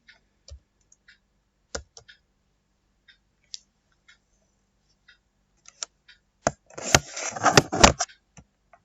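Sparse, sharp computer mouse clicks spread across the clip, quiet and close, with a short cluster of denser rustling clicks near the end and no talking.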